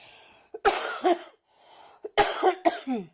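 A person coughs in two close bursts of several harsh, dry coughs each, recorded up close in a quiet room.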